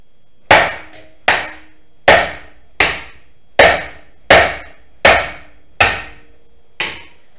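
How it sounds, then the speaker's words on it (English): A hammer strikes a heat-treated steel sample during a bending test, eight or nine sharp metallic blows in a steady, evenly spaced rhythm, each loud and close with a quick ringing decay. "Just kind of hit it at least twice with a hammer."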